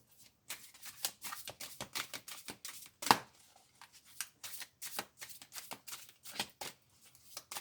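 A deck of tarot-style cards is shuffled by hand for a love reading, a fast run of crisp riffling flicks and taps close up, with one louder snap midway and no voices.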